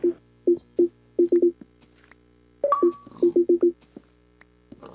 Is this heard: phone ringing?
yes